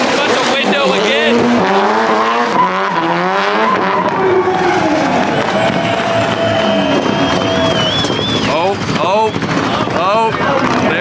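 A Honda K-Series engine is being torture tested at a large automotive convention, revving hard and continuously with rising and falling pitch sweeps, loud and close, with crowd voices mixed in.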